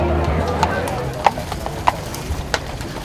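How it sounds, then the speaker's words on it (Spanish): Horse-drawn carriage hooves clip-clop on the road in Central Park, New York, with several evenly spaced hoof strikes heard under steady talking. "tienes que ver los coches de caballos, que son una cosa muy típica"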